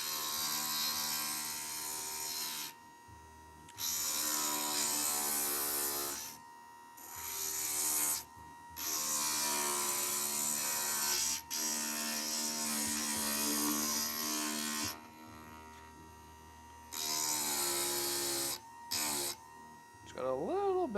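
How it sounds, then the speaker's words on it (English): A small 1/4 inch grinding wheel grinding down a hobby piece, running in several bursts of a few seconds each with brief pauses between them, fairly close. "this is another one we're going to have to use a little 1/4 inch wheel"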